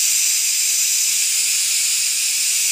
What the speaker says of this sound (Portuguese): só na hora que solta a pressão faz barulho